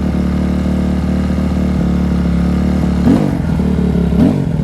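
A Kawasaki KX250F dirt bike engine idles steadily up close while its carburetor is being sorted out, with a low, even rumble and two brief throttle blips near the end.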